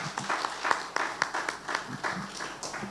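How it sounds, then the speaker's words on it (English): Audience at a maritime week conference in a Lagos hotel applauding a panel, scattered light clapping that sounds somewhat distant and thin. "It's a round of applause for this beautiful panel, please."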